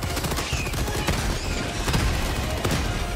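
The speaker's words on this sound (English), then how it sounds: "Orbital rail cannon strike." Orbital rail cannon strike in Helldivers 2, a loud burst of sharp booming impacts and crackling blasts in quick succession, dense and continuous for a few seconds.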